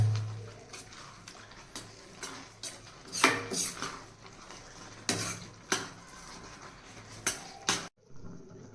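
Carrot halwa with dry fruits being stirred in a pan: a spoon scrapes and clinks against the metal in a steady series of strokes over a faint sizzle, close and fairly quiet, with no talking.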